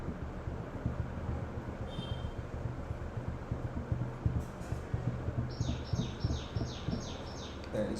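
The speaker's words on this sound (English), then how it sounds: "That is good bird sound." Birds chirp in short repeated bursts over a low rumbling background of passing traffic, the calls faint at first and then more frequent.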